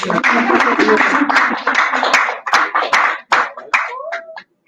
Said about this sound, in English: Yes, we can clap, yes